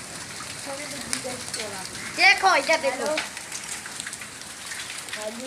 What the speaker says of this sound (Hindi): जो ओले ऊपर पड़े हैं।